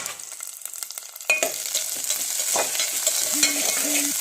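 Masala corn being stirred in a pan with ghee, salt, chili powder and coriander powder, steady frying sizzle with scraping stir strokes and a couple of soft tonal clinks near the end.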